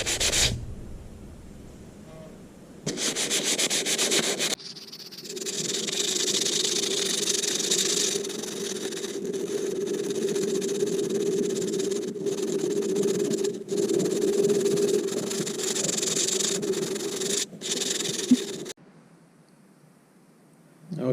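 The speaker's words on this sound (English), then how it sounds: "I got the majority of the sanding done on that blade" Steady rubbing sandpaper strokes on an old hunting knife blade, 220 grit, a continuous abrasive scraping that runs for most of the stretch with brief pauses and a quiet gap near the end.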